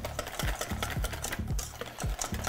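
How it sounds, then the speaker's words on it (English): Lemon juice dressing for a charred Caesar salad whisked in a bowl, with quick rhythmic clinks and scrapes repeating about twice a second, close and moderately loud. "And then half lemon juice. Just like that. And then gonna give it a whisk."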